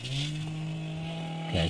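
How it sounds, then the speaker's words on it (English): A chainsaw drones at a steady pitch outside in the background, idling, while a voice speaks briefly at the start. "I've got a chainsaw activated nearby"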